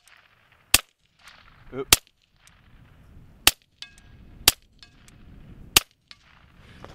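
Rifle shots at a steel plate 50 yards away crack out as five sharp, loud reports spaced about a second apart, with wind noise between and a brief spoken interjection.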